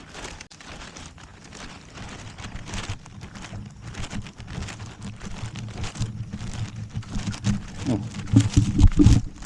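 Steady rain hisses down outdoors as a low, rumbling noise grows louder toward the end, with a brief exclamation at one point.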